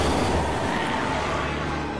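A steady, dense rumble of a passing train in Resident Evil 6, broad and continuous with a low rolling roar, fairly loud and fading slightly toward the end.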